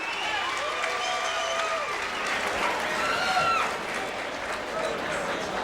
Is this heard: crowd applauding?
yes